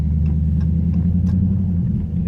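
A Dodge Charger Scat Pack cruising along local farm roads, its engine giving a steady, close, low rumble throughout with faint ticks and road noise layered on top, and no one talking.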